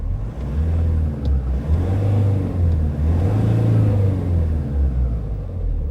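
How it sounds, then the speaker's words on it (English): A car engine is revved several times and rises and falls in steady low rumbling surges, heard close and alone. "I'll rev the car a few times"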